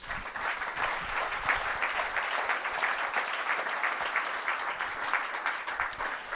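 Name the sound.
applause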